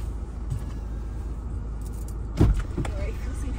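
A car drives up from behind with a low engine rumble, followed by a brief louder thump and rattle partway through, over a constant background hum and faint murmuring.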